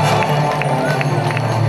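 Steady audience applause and cheering for a Kursk folk ensemble on stage at an outdoor concert in Anapa, loud and continuous with the crowd close and full throughout.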